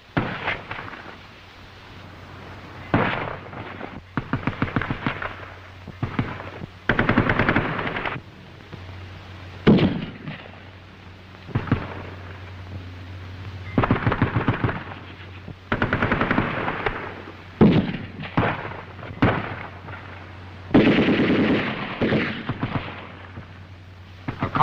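A World War II German infantry squad attacking a position, with rifle shots, machine-gun bursts and booming blasts coming in repeated loud volleys and ragged rattles over a low steady hum, near and forceful, with no speech.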